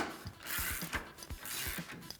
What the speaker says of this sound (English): Now we can get it tightened down using a 21mm socket and 21mm box wrench.